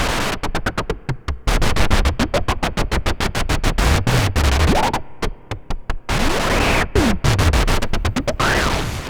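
Filtered white noise through an Erica Black modular filter with raised resonance, stuttering noise bursts overlaid with whistling resonant sweeps that rise and fall, loud and without speech.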